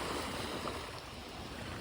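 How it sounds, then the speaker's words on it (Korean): Ocean waves roll in at a beach in Osaka, Japan. The surf makes a steady, loud wash of noise that fills the whole moment, with a little wind hiss and no voices. "제가 내려오니까 파도가 조금 세졌어요."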